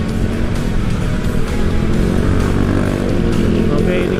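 Continuous engine-like drone and road rumble from an Uwinfly T90 electric motorbike being ridden, a steady loud hum with wind noise throughout.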